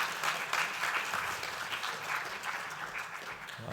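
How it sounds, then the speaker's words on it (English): Audience at an actuarial accreditation conference applauds steadily as a speaker comes to the stage, a dense, even wash of clapping from a moderately distant crowd with no talk over it. "Let's give him a round of applause as he comes through."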